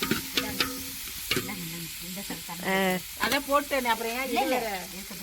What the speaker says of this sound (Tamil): வெங்காயம் எல்லாம் போட்டு வதக்கிட்டு